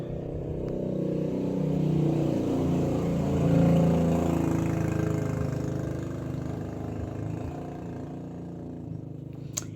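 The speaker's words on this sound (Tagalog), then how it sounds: "Ang daming mga motorsiklo na dumadaan." Motorcycle engines drone steadily from outside a house, a low rumbling swell that peaks and fades as traffic passes at a distance.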